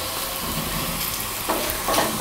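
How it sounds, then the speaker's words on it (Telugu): Tempering of asafoetida, curry leaves, green chillies and dried red chillies sizzles steadily in hot oil for curd rice, a continuous close frying hiss with a couple of small crackling bursts. "చూసారు కదా, పోపు వేగిపోయింది."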